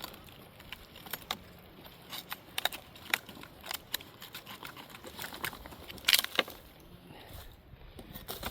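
A knife cuts into and splits a piece of resin-soaked fatwood (fatlighter), giving close, dry cracks, snaps and scraping clicks in irregular bursts, with a sharper splintering crack near the end, outdoors and with no talk.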